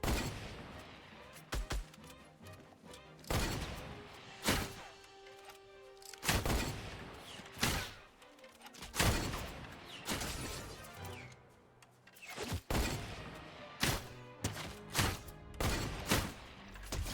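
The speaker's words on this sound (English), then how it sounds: "Gunshots." Fortnite gunfire in a Sunday-night match, loud sharp shots in scattered bursts and rapid volleys with crashing impacts between them, spread across the whole stretch with no talk.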